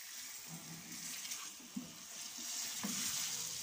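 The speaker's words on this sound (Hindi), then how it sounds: "अदरक लहसुन के पेस्ट को आपने बिल्कुल हल्की आंच पे भूनना है।" Ginger garlic paste fries gently on low heat in a pan, a faint, soft sizzle with light scraping and a few small taps, steady and close with no voices.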